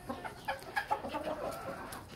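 Chickens cluck in short, repeated bursts close by. A few higher chirps are mixed in, and no one talks.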